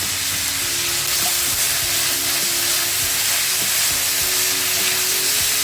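Cashew nuts fry in a hot pan with onions and tomatoes for mutter paneer masala. A steady, close, loud sizzle and hiss runs throughout, broken by faint stirring clicks, with no talk.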